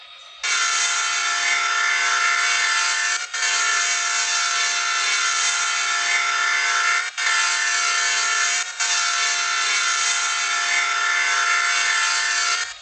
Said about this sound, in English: you can do a test honk, which you just hold down the button and you can hear all of the different horns